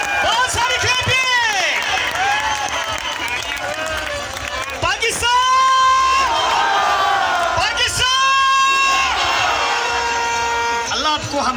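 Audience at a magic show in a hall, a loud, busy crowd roar with whoops, shouts and rising whistles, cheering rather than steady clapping, with voices calling out through it.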